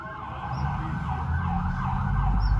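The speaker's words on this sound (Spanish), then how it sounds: "La ambulancia ahí viene" Ambulance siren wailing as it approaches, a steady rising and falling tone over rumbling traffic that grows slightly louder, no talking.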